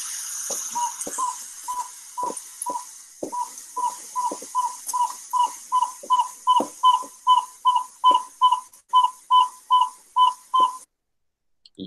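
Recorded animal whistles in a rapid, evenly spaced series, about twenty short clear notes that grow louder and more regular before stopping abruptly, with no other sound around them.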